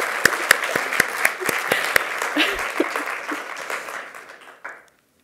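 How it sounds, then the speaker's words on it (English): An audience at an artist's onstage conversation claps after a family tribute, with several loud, sharp claps up close over a broad wash of applause that thins and fades out near the end. "So round of applause for that, please."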